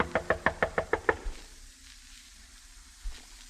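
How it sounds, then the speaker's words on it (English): Someone raps on a door in a radio drama: a quick, even run of about eight sharp knocks, close and crisp, followed by near silence and then one soft dull thud. "I knocked hopefully on his door."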